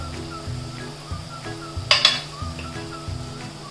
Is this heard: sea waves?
no